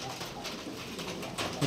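Pigeons coo steadily over a dense, noisy background, their low soft calls repeating close by without pause.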